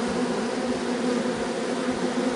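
Young honeybees buzz during orientation flights outside a hive, a dense, steady hum of many wings close by with no talking.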